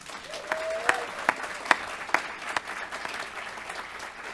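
Audience applause at a ministerial announcement event, several sharp, evenly spaced claps standing out near the front over a softer bed of crowd clapping, with a brief voice at the start.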